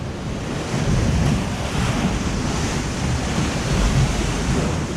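Artificial waves churn on a water ride at Europa Park, a continuous loud rushing surge of water with wind buffeting the microphone, no voices over it.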